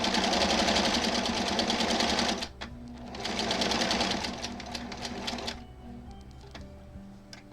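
A sewing machine stitches a quilt block in fast, even, rattling bursts, running loud for about two seconds, pausing briefly, then running again before slowing and stopping, with a few soft clicks after; nobody speaks.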